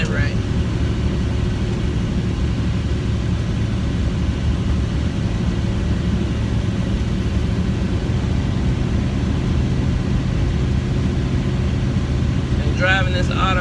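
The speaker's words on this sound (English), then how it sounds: "Driving this automatic, it pulls pretty good" An automatic Kenworth truck pulls through oil field hills in North Dakota, its engine a steady, loud low rumble throughout with continuous road and cab noise, and a brief higher rattle near the end.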